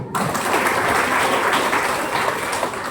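Audience applause at a leaders' meeting in Hubli, a dense, steady wash of many hands clapping close by, holding strong for the full stretch with no voices over it.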